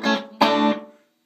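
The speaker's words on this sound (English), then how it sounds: "you run the mix down and the regen up, you can get a slightly reverb-ish sound out of it." A DIY delay pedal set with low mix and high regeneration gives a short guitar phrase a smeared, reverb-like wash, two plucked notes ringing out and fading within about a second.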